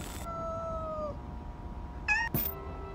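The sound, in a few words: kitten meowing in Amanda the Adventurer video game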